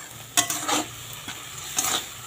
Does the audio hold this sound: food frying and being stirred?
yes